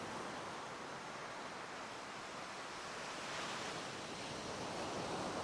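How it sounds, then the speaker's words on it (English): Surf rolling onto Half Moon Bay beach in Antigua before sunrise, a steady wash of breaking waves with a gentle swell in volume, mixed with soft wind noise and no voices. "Yeah, Half Moon Bay Beach."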